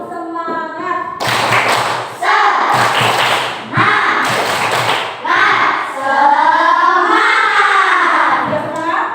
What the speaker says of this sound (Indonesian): Kita tepuk semangat dulu ya.